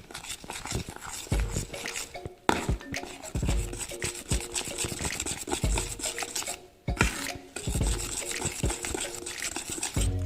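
Cocoa and milk powder are stirred together in a bowl for homemade chocolate, making close, dry rasping and scraping strokes in an irregular rhythm, with two brief pauses and no speech.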